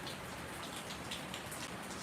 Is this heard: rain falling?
yes